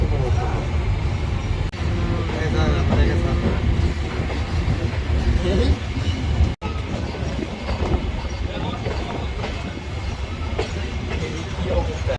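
A train rumbles steadily along the tracks on a long rail bridge, rounding a curve, with a dense, continuous roar and rhythmic rattling, with faint voices mixed into the noise.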